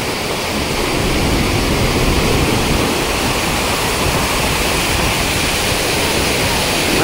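Randha waterfall at Bhandardara in flood roars as a dense, steady wall of rushing water, loud and close, with no pauses across the whole stretch.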